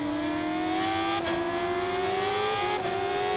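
Superbike engines from a Yamaha and a Suzuki in a racing video game wail at high pitch, revving steadily with two sharp gear-shift drops as they accelerate out of a corner, loud and continuous with no talk.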